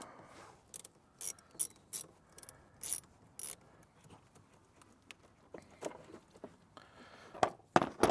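A hand ratchet clicks in short bursts while loosening the positive battery terminal on a Toyota 4Runner, with pauses between strokes and a few sharper metallic clinks toward the end.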